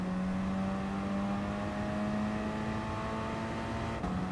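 A race car in the video game GT Sport on PS5 accelerates with a steady, rising engine whine and constant road roar, moderately loud and unbroken until a short gear-change dip near the end, with no talking.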